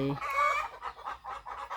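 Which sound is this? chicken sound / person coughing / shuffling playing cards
chicken sound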